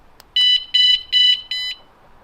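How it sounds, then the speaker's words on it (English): Four loud, sharp electronic beeps from a Land Rover Defender alarm arming, in an even rhythm, close and clear, then quiet. "It's gonna beep again when it's armed."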